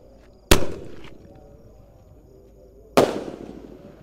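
At night a mercon firecracker goes off twice in sharp, loud bangs about two and a half seconds apart, each followed by a short crackling decay.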